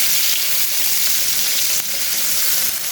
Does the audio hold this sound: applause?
no